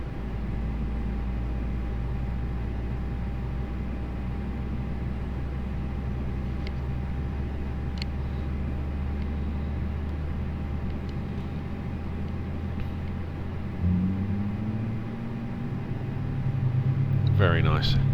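Airbus A320 jet engine spooling up at the gate in a flight simulator, a steady low roar and hum that rises near the end as the second engine turns over, loud and close.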